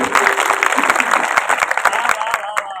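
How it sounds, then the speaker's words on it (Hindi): A seated crowd at a poetry event in Gangapur City applauds loudly, a thick continuous roar of many hands with sharper individual claps standing out, close and full throughout. "एक बार जोरदार तालियां बजाकर मुझे आदेशित कीजिए।"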